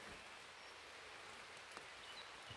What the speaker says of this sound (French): Il va pleuvoir comme ça pendant 1 heure.